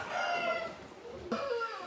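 A rooster kept among several fowl gives a close, fairly loud harmonic crowing call, with a short break before a second burst, and no voices over it.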